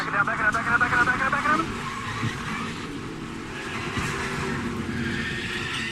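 NASCAR trucks racing and crashing at Talladega in 2016: a loud roar of engines and tire noise, a high whining sweep that fades early, then steady track rumble under a commentator's voice.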